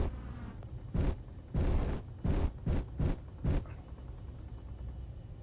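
A turret in Space Engineers fires six heavy, booming shots in an irregular sequence, each a short thudding blast standing alone over a low ambient hum.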